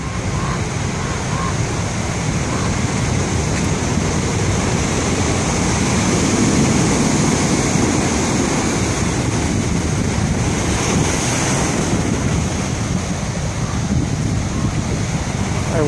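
Big ocean waves surge against the seawall at Pacifica, a steady loud roar of surf with heavy wind buffeting the microphone and no pause throughout.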